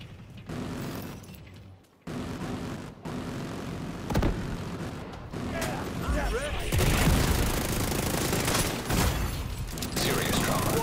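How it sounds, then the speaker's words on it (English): A vehicle-mounted autocannon fires in The Division 2 video game during a battle at the Capitol Building. Rapid bursts of fire and explosive thuds build into a dense barrage, with voices heard over the fighting. "The autocannon seems to be firing blind."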